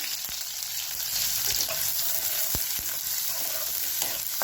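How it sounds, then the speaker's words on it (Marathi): Cumin, mustard seeds and finely chopped onion go into two spoons of hot oil in a kadhai, setting off a dense, close, continuous sizzle and crackle with a few sharp pops, and nobody speaks. "तेल गरम झालेलं आहे, त्यात टाकणार आहे जिरी मोहरी, बारीक चिरलेला कांदा"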